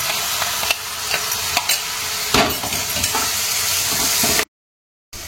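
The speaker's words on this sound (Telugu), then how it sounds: "ఇప్పుడు దీనిలో ఈ ఆనియన్, టమాటా పేస్ట్ వేసుకొని పచ్చి వాసన పోయే వరకు వేయించుకోవాలి" Onion and tomato paste frying in a pan, a close, even sizzle broken by sharp scrapes and knocks of a spoon stirring, ending in a brief cut to silence.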